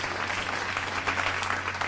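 A television studio audience claps steadily, a dense, even patter of many hands at moderate level with no talk over it.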